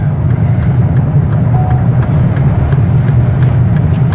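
Car coasting in neutral at around 100 on a magnetic hill near Madina, Saudi Arabia, heard from inside as a loud, constant low road and wind roar with faint regular ticking.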